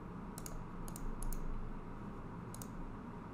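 Computer mouse clicks while working in DDScad software: a few sharp, quiet clicks, two close pairs, one single and another later, over low room hum, with no talking.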